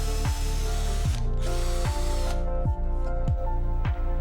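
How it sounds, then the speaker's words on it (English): A power drill bores a marked hole through an aluminum track saw track while fitting a toggle latch clamp, with a loud, continuous motor whine and repeated ratcheting surges roughly every 0.7 seconds, heard alone. "Drill the mark."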